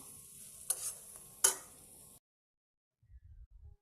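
Papaya peel stirred with powder in a frying pan gives a soft sizzle and two sharp utensil scrapes against the pan, then a brief silence and a few faint low rustles.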